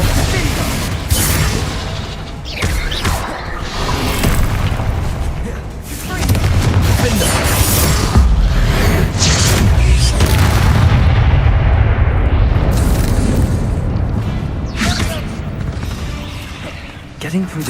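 Spell explosions crash again and again in a Hogwarts Legacy battle, loud booming blasts and bursts piling up over a dense, continuous low rumble of combat, with a voice calling out spell names among the impacts.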